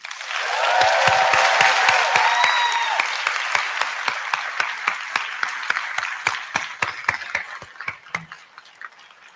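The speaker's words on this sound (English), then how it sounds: "I'd like to ask everyone to join in giving her her flowers by giving her a big round of applause" A hall audience at a national pharmacy convention's opening session breaks into loud, full applause with a few whoops and cheers. The clapping then thins to scattered individual claps that trail off.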